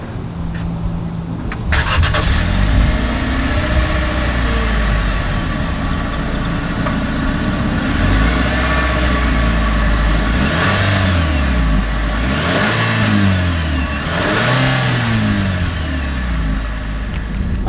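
Exhaust of a 2025 Nissan Kicks, heard close at the rear: a steady idle broken by several rising revs that climb and fall back, ending in repeated quick blips, with no talking.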